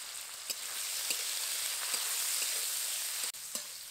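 Shrimp frying in hot mustard oil in a pan, a continuous close sizzle with small pops and crackles, alone and steady throughout.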